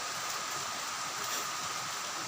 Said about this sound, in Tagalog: Bumuhos din ang ulan. Ayan. Rainy morning.